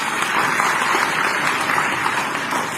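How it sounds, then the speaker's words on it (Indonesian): Dense, steady applause from a seminar audience fills the whole stretch, a close continuous wash of clapping with no pauses and no voices over it. "Tepuk tangan buat Anda semua."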